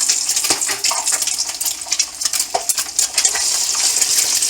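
An egg cracked into hot oil in a pan for vegetable egg fried rice gives a steady crackling sizzle with scattered sharp pops and spatters throughout.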